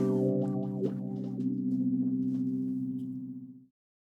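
Guitar run through a Jam Pedals Wacko filter pedal, sustained chords with sweeping, wobbling filtered overtones and a few picked accents, ringing out steadily then stopping.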